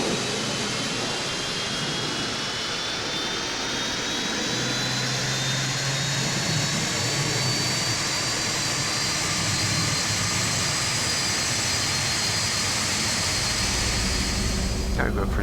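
Engine start on a Boeing 747-200 jet in the X-Plane 11 flight simulator, a steady broadband roar with a slowly rising whine as the engine spools up, loud and continuous throughout, with a brief low rumble near the end.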